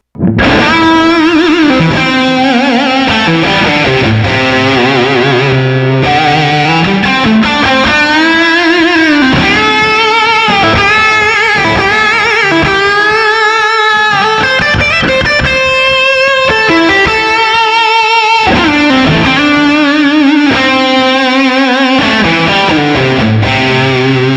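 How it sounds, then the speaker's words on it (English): Loud electric guitar through a distortion pedal plays a continuous sustained melody with whammy bar vibrato and bends, dense and saturated throughout with no pauses. "let me kick on the distortion pedal and it's going to start sounding really kind of 80s"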